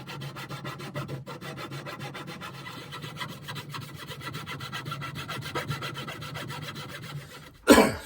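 Fret slots being sawn to final depth in a guitar neck for a Fender Jaguar Johnny Marr build: steady, rapid rasping hand-saw strokes on wood, close and continuous, ending in a loud clunk.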